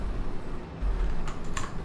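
Quick, irregular clicks of typing on a computer keyboard, close and moderately loud over a steady low rumble from a racing game.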